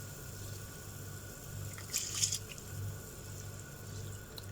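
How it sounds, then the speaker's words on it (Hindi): Three cups of rice tipped into a pot of boiling water, a brief splashing patter near the middle over a steady low simmer and hum, with no talking. "ये चावल हम ऐड कर देंगे।"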